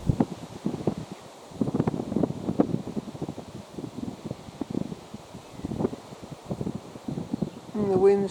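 Wind gusting outdoors and buffeting a camera tripod, producing uneven rumbling and rustling bursts close to the microphone, with a faint bird call near the end.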